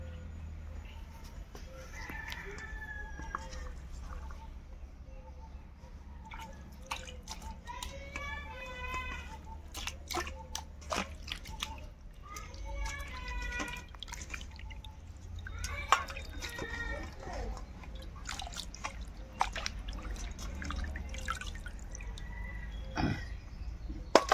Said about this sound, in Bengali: প্রথম আমি চিকেনটাকে ধুয়ে নিই।